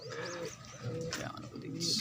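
Pigeons coo softly at close range, a low warbling murmur that comes and goes in short phrases, with a brief higher chirp near the end.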